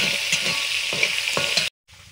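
A shiny iron spatula stirs food frying in a pan over a steady, close sizzle, with several distinct scraping strokes, before the sound cuts off abruptly near the end.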